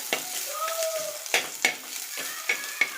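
Garlic frying in a pan for a horse gram idli podi spice mix, with a steady close sizzle broken by sharp scraping clinks of a spatula stirring every half second or so.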